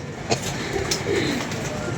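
Pigeons cooing close by in a loft or rooftop setting, soft low coos over a steady background hum, without talk.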